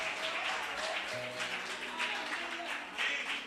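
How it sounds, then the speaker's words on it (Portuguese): A church congregation claps during a worship service, a steady wash of applause with some voices and faint tonal sounds underneath, moderately distant. "Quem recebe isso, dá uma salva de palmas e um grito de vitória."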